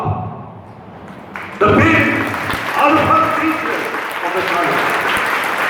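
Audience at a school alumni and parents meeting bursts into loud, dense applause after a short stretch of a speaker talking, and the clapping continues close and steady to the end.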